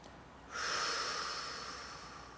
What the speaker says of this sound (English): Breathe in the nose